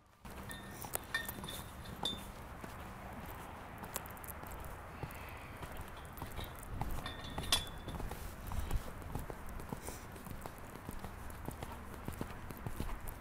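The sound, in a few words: horse hooves cantering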